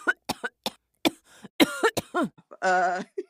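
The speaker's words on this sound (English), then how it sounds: "Cough, cough." Someone coughs in a quick series of short, sharp bursts, ending with a drawn-out, throaty, voiced cough.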